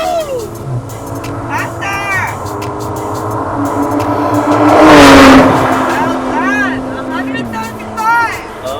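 Porsche race car engine accelerating with a rising, swelling roar that peaks near the middle and then eases off into a steady drone, with a voice talking over it.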